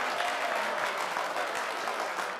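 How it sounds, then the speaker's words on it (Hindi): Steady, dense applause from a casino audience in a London casino, a full crowd clapping evenly and loudly throughout with no pauses or voices standing out. "तालियां पड़ती हैं।"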